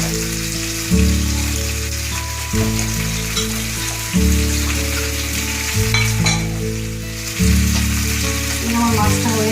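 Parshe fish (mullet) frying in hot oil in a pan, a loud continuous sizzle with occasional crackles and a few stirring movements, heard close with no talk.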